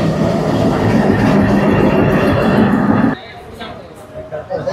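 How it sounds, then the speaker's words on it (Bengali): A neighbouring local train pulls out of the station bound for Rajshahi, giving a loud, steady rumble of wheels and carriages for about three seconds before it drops away sharply to quieter ambience with faint talk. "পাশের ট্রেন রাজশাহীর উদ্দেশ্যে ছেড়ে দিয়েছে"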